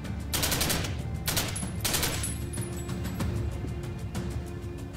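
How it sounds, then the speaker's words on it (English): Rapid bursts of Uzi pistol fire in the shooter game Past Cure, several dense volleys close and loud, with brief pauses between them and no talk. "My Uzi pistol."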